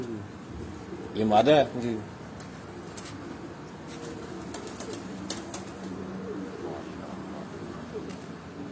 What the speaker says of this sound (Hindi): एक कबूतर बासित भाई लाए हैं।